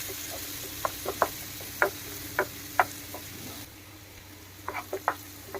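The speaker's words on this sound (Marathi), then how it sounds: "कांदा छान परतून घ्यायचा," Chopped onion and curry leaves fry in hot oil, giving a soft steady hiss dotted with sharp crackling pops that come in bursts, briefly settle, then return.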